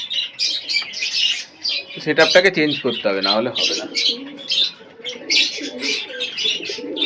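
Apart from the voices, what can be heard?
pigeons cooing at night feeding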